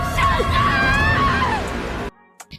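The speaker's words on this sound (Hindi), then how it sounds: "वह चिल्लाते हुए शेनहाई का नाम पुकारती है।" A woman screams out a name in anguish, a loud, strained, wavering cry that rises and falls for about two seconds before cutting off abruptly, followed by a couple of faint short sounds.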